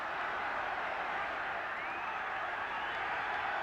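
Broad roar of a noisy football crowd at a 1977 Home Championship match between Northern Ireland and England, a constant dense hubbub at steady loudness with no individual voices standing out.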